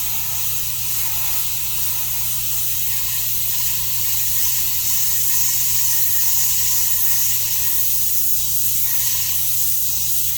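A spray gun sprays paint in a steady, unbroken hiss that stays close and even for the whole stretch, with no pauses and no voices.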